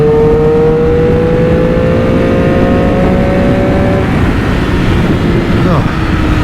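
A 2020 Triumph Moto2 Daytona 765 limited-edition sport motorcycle engine revving loudly and steadily up close, its pitch climbing then settling, with wind rush building beneath it.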